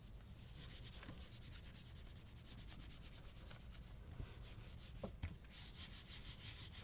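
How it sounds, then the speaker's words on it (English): Paint is rubbed through a stencil onto a gel printing plate, giving a steady, soft scrubbing texture with rhythmic strokes and a few light taps. "I'm going to rub and pick up paint through the stencil"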